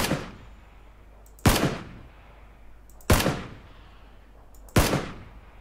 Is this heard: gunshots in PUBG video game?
yes